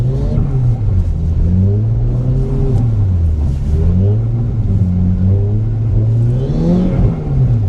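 An Audi TT engine revs on a slippery, snow-covered test track, loud and close, its pitch climbing and falling in repeated sweeps as the throttle is worked, with no talking.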